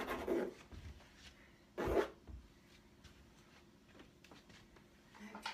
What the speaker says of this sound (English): Scratching in some zigzaggy designs.